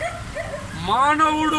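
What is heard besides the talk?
injured dog whimpering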